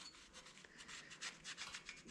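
A scouring pad scuffs the metal surface of a Yamaha XS650 motorcycle engine near a cam seal, giving a quiet, steady rub in short repeated strokes with no talk.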